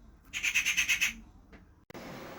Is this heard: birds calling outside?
yes